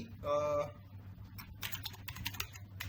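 Keys clack in a quick, uneven run of typing on a computer keyboard as Java code is entered, following a brief tonal hum at the start.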